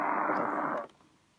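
A Sony ICF-SW77 shortwave receiver tuned with narrow filter and synchronous detection gives a muffled, band-limited burst of hissy radio audio lasting under a second, then cuts abruptly to faint background noise.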